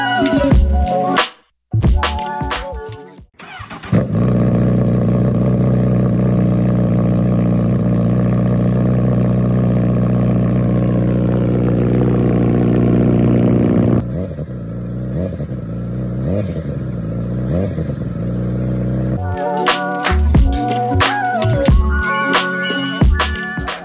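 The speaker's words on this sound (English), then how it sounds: "The exhaust features a simple plug-and-play installation and carries a deep exhaust sound" Honda CBR1000RR motorcycle fitted with an Akrapovic titanium slip-on exhaust, heard up close in short throttle blips, a long sustained high rev, then a rough idle and more sharp revs, deep and loud.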